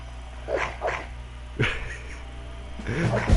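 Dog sounds in Skyrim: a few short yips and whimpers spaced out across a few seconds over a low game hum, ending with a louder thump.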